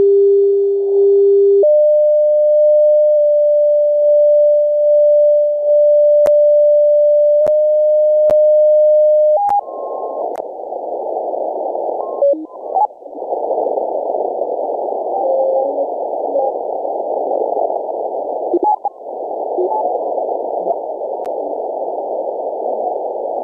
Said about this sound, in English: here you can hear how the signal is propagated. This is the outgoing signal.